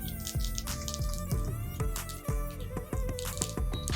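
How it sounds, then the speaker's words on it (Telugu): Mustard seeds crackle and pop in hot oil after fenugreek seeds, a dense, rapid run of sharp little bursts and sizzling, close and continuous throughout. "ఆవాలు పేలుతాయి."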